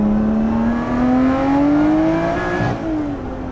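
A Lotus Exige 430 Cup engine revving hard under acceleration, a loud, close, rising engine note climbing steadily in pitch, briefly dipping at a gear change, then pulling on.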